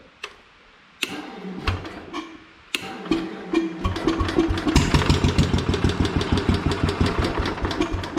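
A Kohler engine on a Minneapolis Moline 114 Hydro tractor cranks with a few sharp clicks and turns, then catches and settles into a steady, rapid ticking idle, close and loud.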